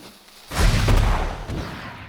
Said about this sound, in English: let's go throw a bomb